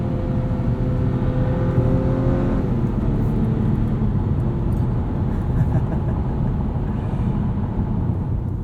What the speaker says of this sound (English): It almost sounds like a V6.